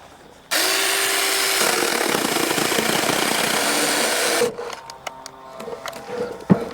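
A Saker 6-inch mini electric saw, battery powered, whines loudly and steadily for about four seconds as it cuts through wood, then winds down into light handling clatter.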